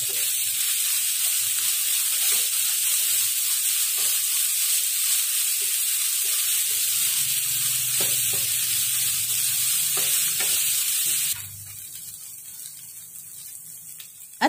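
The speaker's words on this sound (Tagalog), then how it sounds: "Lagay na natin ang ating bamboo shoots o ang ating tinatawag na labong. Ayan, at ihalo natin guys." Bamboo shoots (labong) for adobong labong are stirred in a hot pan, a continuous close sizzle with scraping stir strokes, then the hiss drops noticeably quieter near the end.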